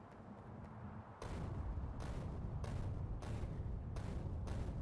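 Grenades go off against an alien base in the factory-building game Factorio, several sharp bursts in quick, uneven succession over a low rumbling background, moderately loud.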